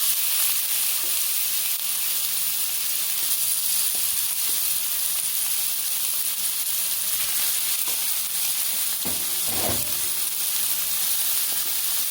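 Steady sizzling and crackling of chicken pieces frying in hot oil in a pot, broadband hiss throughout with occasional louder pops and a brief burst of stirring near the end.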